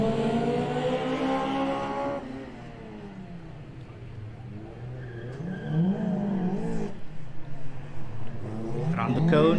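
A gymkhana car is held on its rev limiter as it weaves through a lane of cones at a motor club test. Its engine hums and bounces steadily under a commentator's voice, rising to a sharper rev near the end.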